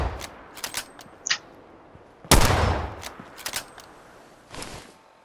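A bolt-action rifle in the video game Fallout 4, modded with a weapon overhaul, fires one loud crack with a decaying tail, surrounded by lighter mechanical clicks of the bolt and handling.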